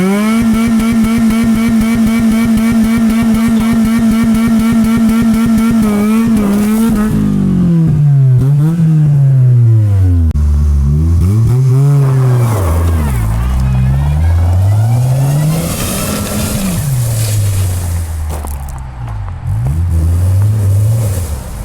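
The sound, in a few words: Honda Civic engine starting and revving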